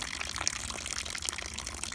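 Rainwater running off the end of a metal flashing gutter on a greenhouse and splashing into a bucket, a continuous close trickle with bright, irregular drips and spatters.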